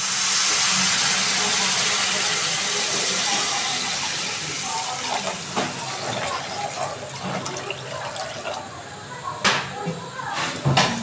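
Water poured into a pan of fried spices for a parshe fish curry, a loud hissing sizzle at first that settles into steady bubbling and simmering with scattered clicks and taps.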